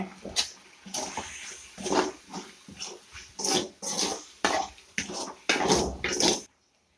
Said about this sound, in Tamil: 3/4 கிலோ சிக்கனுங்க. நல்லா கழுவி வச்சுக்கிறேங்க